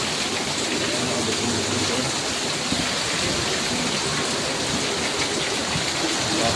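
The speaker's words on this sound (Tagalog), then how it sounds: "Lakas ng ulan." Heavy rain with large raindrops in Metro Manila makes a dense, steady hiss of drops drumming on surfaces, loud and unbroken throughout with no talking.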